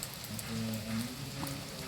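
Light rain falls outdoors, giving a faint, soft and even patter with a few brief drops standing out against a low background hum.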